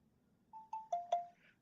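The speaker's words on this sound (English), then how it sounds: "I thought I heard my phone beep. It just beeped." Ring doorbell app notification on a phone, a quick sequence of four bright electronic beeps rising in a short melody, clear and close over a quiet background.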